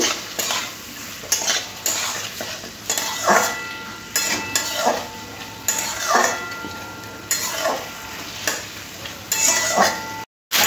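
Washed masoor lentils being mixed with papaya in a pot, with repeated rhythmic scrapes and clanks of a metal spoon against the pot over a faint sizzle, close and steady.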